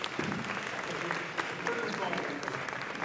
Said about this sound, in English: That's applause to you.